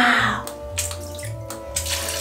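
Water splashes steadily from a bath toy into a filling bathtub in uneven surges, close by and fairly loud, with no voices.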